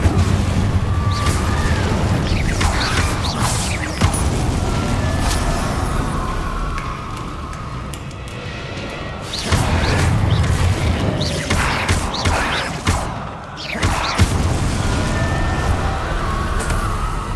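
Incendio fire spells and other combat spells blast repeatedly in Hogwarts Legacy, loud layered booms and whooshes over a dense game soundscape with music and effects, no talk.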